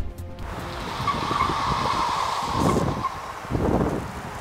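Tires squeal on an MG EHS SUV driven hard with stability control switched off during a timed lap, a sustained screech rising in two strong surges over the engine's drone.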